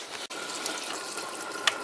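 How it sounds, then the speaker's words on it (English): Tap water runs steadily from a kitchen faucet at low pressure while a newly installed electric water heater fills, a continuous broadband hiss with a brief dropout near the start and a small click toward the end. "now I'm at the kitchen faucet"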